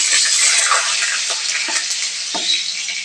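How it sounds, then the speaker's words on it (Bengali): Cut potatoes frying in hot mustard oil, a bright continuous close sizzle with a few soft taps and scrapes from stirring, no voices. "এবার আমি আলুগুলো দিয়ে ভালো করে আমি আলুগুলো আগে ভেজে নেব"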